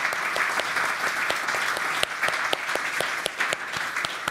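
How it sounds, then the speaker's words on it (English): Audience at a trade union pensions conference applauds the panellists after a debate, a steady, dense wash of many hands clapping at middle distance with no voices over it. "We'll just give them a round of applause"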